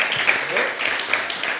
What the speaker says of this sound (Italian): alza la mano, un applauso Axel.